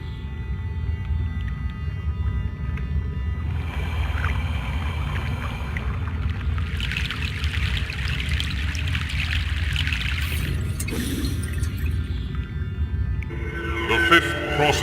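A boat crossing a river in the PC game Broken Sword: The Sleeping Dragon gives a steady, continuous wash of water and hull noise, with brighter splashing swells in the middle and near the end.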